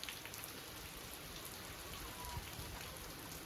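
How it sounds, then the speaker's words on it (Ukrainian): Steady outdoor rain falls in a sudden, unexpected shower during hot weather, a dense even hiss of drops with no thunder and no voices, continuous and fairly soft throughout. "Такий дощ спустився."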